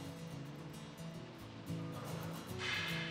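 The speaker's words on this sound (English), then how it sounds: "We have a nice hearty pour." Pilsner Urquell lager poured briskly from a bottle into a glass, a steady close-up glug and splash that rises into a bright fizzing foam toward the end.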